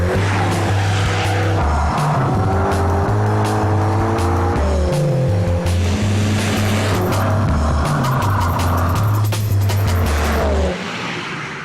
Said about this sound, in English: the Stig is in a mini John Cooper Works GP, one of the most hardcore hot hatches you can buy